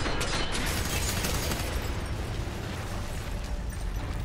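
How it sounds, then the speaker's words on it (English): Loud in-game explosion from the shooter FEAR 3, a broad rumbling blast that fills the whole clip with sustained crackling roar and slowly decaying debris, no voices over it. "was kinda hoping that explosion would get him"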